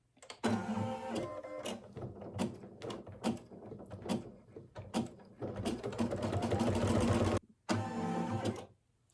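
An embroidery machine sews a satin stitch around a circle on a snowglobe Christmas ornament, giving close, rapid mechanical stitching bursts with short pauses and a sustained run near the end.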